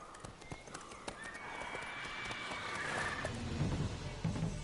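Horse hooves clip-clopping steadily while riding in Witcher 3, a quick rhythmic gallop close up over game ambience, with a brief whinny from the mount.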